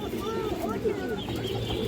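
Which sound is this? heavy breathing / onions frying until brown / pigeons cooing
pigeons cooing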